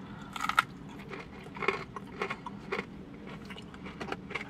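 Crispy breaded chicken tenders seasoned with fry seasoning being bitten and chewed, giving a few soft crunchy bites close to the mic, with quiet crackly chewing in between and no talk.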